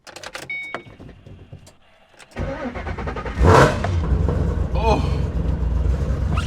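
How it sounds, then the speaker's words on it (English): A Ford Mustang engine cold-starting: a quiet lead-in with a faint voice, then the starter catches and the engine fires with a loud burst and rev before settling into a steady, rumbling idle close by. "Let's get a cold start."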